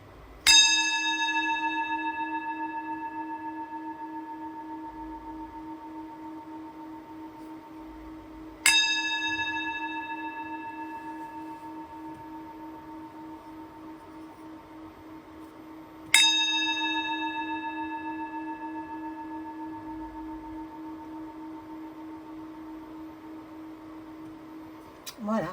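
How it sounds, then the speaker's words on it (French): A Tibetan singing bowl is struck three times at roughly even intervals, each strike ringing out with a long, shimmering sustained tone that slowly fades, close and clear with no talking. "faire teinter le bol tibétain"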